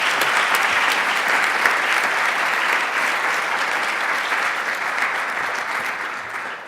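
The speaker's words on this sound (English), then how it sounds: "I would quite like us just to give her a round of applause" A conference audience applauds its organizer in a sustained, dense round of clapping that stays steady throughout, tapering off only slightly at the very end.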